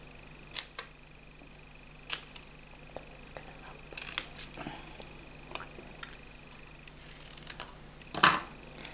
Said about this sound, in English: Snip off the edge, do a little fishtail.